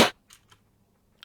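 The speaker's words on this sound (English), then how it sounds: "And the first sound is from the washing machine." A washing machine makes a sharp, loud percussive knock followed by a few softer, short clicks and a final brief tap, all close and dry with silence between.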